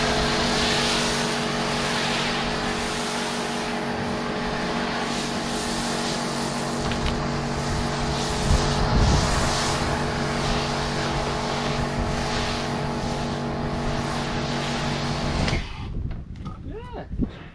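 Turtle Wax snow foam being sprayed onto a car: a steady, loud hiss with a droning motor hum that runs without a break for about fifteen seconds, then cuts off abruptly, leaving faint rustling.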